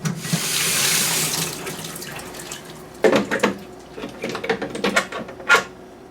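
Water from a tap rinses parts just pulled from a Hornady Hot Tub sonic cleaner: a steady hissing stream, then irregular splashes and spatters as items are moved under the flow, close and fairly loud.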